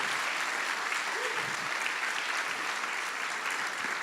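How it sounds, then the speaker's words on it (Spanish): A church congregation breaks into sustained applause during a worship service, broad even clapping held at a steady level throughout. "Denle ese aplauso fuerte al Señor, que Él se lo merece."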